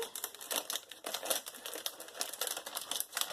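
Paper or plastic art cover being folded and taped at a corner, a steady close crinkling and rustling with rapid, dense crackles throughout.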